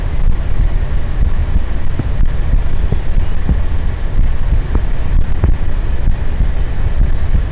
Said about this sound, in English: you'll be able to hear my heartbeat